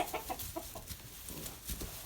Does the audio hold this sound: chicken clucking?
yes